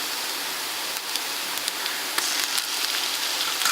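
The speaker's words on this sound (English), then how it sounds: "Now we'll add ginger garlic paste to it" Ginger garlic paste sizzles steadily with onions in a hot pan for a Maharashtrian misal pav, a dense, continuous hiss with scattered crackles and pops, loud and close, with no voices.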